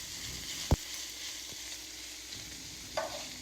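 Spiced minced meat filling frying in its own fat in a pan makes a soft, steady sizzle, broken by a sharp tap and a few light scrapes of stirring.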